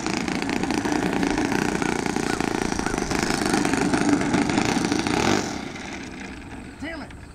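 A small glow or gas engine on a UCD3D RC model airplane runs steadily at a fast, buzzing idle, loud and continuous before easing down slightly near the end, with a faint voice in the background.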